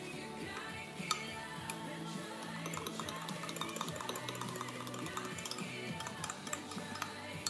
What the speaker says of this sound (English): I will use the fork I used for my butter before to mix it real well